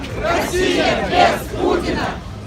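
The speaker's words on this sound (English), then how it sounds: "The crowd marched along the banks of the Ob River on the edge of town, chanting "Russia without Putin."" Protest crowd marching along the Ob River banks in a Russian town, chanting a political slogan in unison; repeated rhythmic swells of many voices, loud and fairly near, filling the whole stretch.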